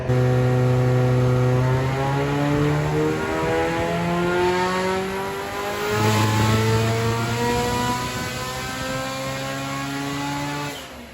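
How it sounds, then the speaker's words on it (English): An 800+ HP Vauxhall Astra VXR van roars on a dyno during a power run, engine revving loudly up through the range, dipping briefly midway, then climbing again in a sustained close-up howl. "we're just doing some basic power runs"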